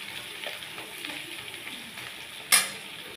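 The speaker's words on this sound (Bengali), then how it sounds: "আমি এটাকে পুরো আলু আর পেঁয়াজটাকে একটু ভেজে নিচ্ছি" Potatoes and onion fry in a pan with a continuous, even sizzle, and a single sharp utensil clink comes near the end.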